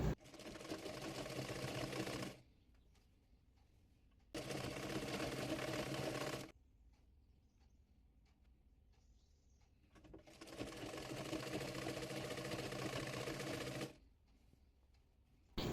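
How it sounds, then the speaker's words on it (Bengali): A sewing machine stitching stacked ruffle layers onto a baby frock runs in three steady bursts of about two, two and four seconds, each halting to quiet pauses. "কুচিগুলোর উপরে আরেকটি কুচি রেখে সেলাই করে নেব।"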